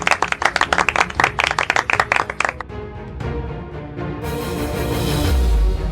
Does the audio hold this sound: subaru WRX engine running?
no